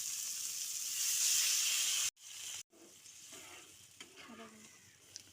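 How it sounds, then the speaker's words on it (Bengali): Hot water is poured into a pan of potatoes frying with spices, raising a loud, steady sizzling hiss that abruptly breaks off, then gives way to quieter bubbling and stirring up close. "এবার এখানে গরম জল অ্যাড করছি।"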